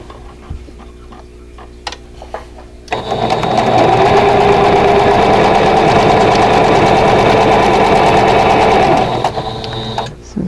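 Sewing machine chain piecing quilt block squares for a vintage Broken Wheel block, a steady loud mechanical whir running continuously for several seconds after a quieter lead-in of faint ticks, then easing off near the end.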